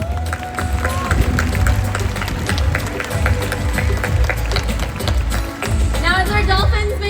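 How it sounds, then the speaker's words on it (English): Crowd applause rises from the audience stands at a SeaWorld San Diego dolphin show, a steady dense wash of clapping that runs under loud amplified music and show audio throughout. "I think you all and our rescue team deserve a big round of applause"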